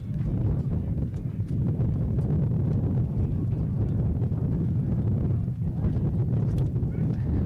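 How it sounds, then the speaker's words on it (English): Constant low rumble of wind buffeting the microphone, steady and loud throughout, with faint crowd and commentary sounds beneath it, at a windy morning Eswatini versus Botswana men's football match. "Quite a windy morning here in the capital city."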